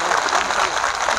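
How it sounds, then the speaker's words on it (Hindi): A large crowd at a Bahujan Samaj Party rally in Lucknow claps loudly in a dense, steady burst of applause that runs without a break. "एक बार जोरदार तालियां बजाएं खुद के लिए"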